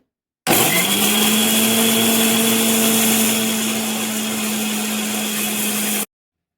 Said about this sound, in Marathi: मिक्सरला बारीक करून घ्यायचं आहे